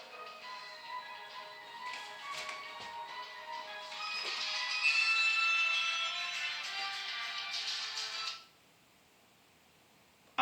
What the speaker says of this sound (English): So you could hear my phone ringtone.